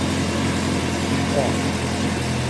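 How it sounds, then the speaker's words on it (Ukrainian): A Suzuki Bandit 600 S motorcycle engine idles steadily while still cold, a continuous low, even running note throughout with no pauses. "Чуть треба холості скрутити, бо я їх підкручував."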